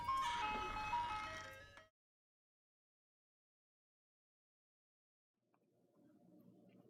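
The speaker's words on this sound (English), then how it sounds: "Hopefully the ice cream truck doesn't leave." Ice cream truck chime rings out as a bright tinkling melody for about two seconds, then silence, then a faint low rumble of a passing vehicle.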